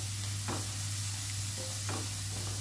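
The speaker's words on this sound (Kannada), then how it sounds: "ಎಲ್ಲ ಮೆಂತ್ಯ ಸೊಪ್ಪಿನ ಹಸಿ ವಾಸನೆ ಹೋಗಿ ಕಲರ್ ಡಾರ್ಕ್ ಗ್ರೀನಿಗೆ ಚೇಂಜ್ ಆಗೋದವರೆಗೆ ನಾವು ಫ್ರೈ ಮಾಡುವ" Fenugreek (methi) leaves frying in a pan as the leaves darken, a steady quiet sizzle with occasional soft stirring scrapes over a low hum, no voices.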